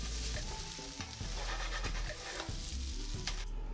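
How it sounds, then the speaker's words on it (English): Scallions and bean sprouts are stir-fried into Pad Thai noodles in a hot pan, giving a loud, continuous sizzle with scraping, clattering stirring strokes close by. "Now we're going to add in our scallions and bean sprouts."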